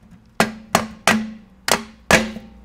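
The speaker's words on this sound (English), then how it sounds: "So you can use a little hammer" A small hammer knocks on the cam cover of a Victory motorcycle, five sharp metallic taps at a steady, unhurried rhythm. Each strike is close and fairly loud, with a short ringing decay and no talking.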